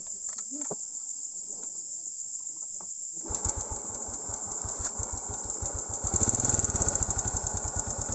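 Honda XRM125 motorcycle engine, fitted with a programmable CDI, fires up and idles close by with a steady rapid pulsing putter that grows louder near the end over a constant high insect-like whine.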